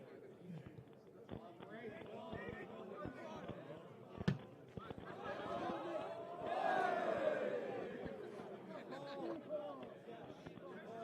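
A rugby crowd at an Irish club match between Old Belvedere and Buccaneers cheers and murmurs in a swelling roar, distant and broad, with a commentator talking over it and scattered sharp thuds.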